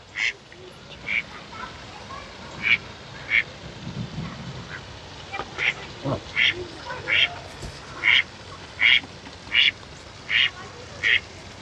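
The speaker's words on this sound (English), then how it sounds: "They're actually pretty quiet, their quacks." Farm ducks quack in a run of short, fairly quiet calls that come closer together and grow clearer toward the end, over a steady outdoor background with people talking.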